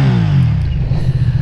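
Up close, a Ducati Streetfighter V2 motorcycle engine runs loud and rough in a short burst, a steady throaty rumble with no voices over it.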